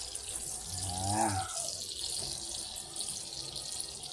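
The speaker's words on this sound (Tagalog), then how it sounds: "Lagyan mo muna siya ng tubig." Water runs from a kitchen tap into a pan for cooking longganisa sausages, a soft steady hiss and splash with a brief gurgling swell early on.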